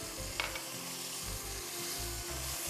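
Carrots and capsicum sizzle steadily in a hot pan with chicken (liver) masala, a continuous close crackling hiss with a brief clatter near the start and no talking.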